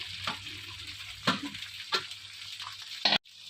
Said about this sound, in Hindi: जब तक हमारी भिंडी फ्राई होती है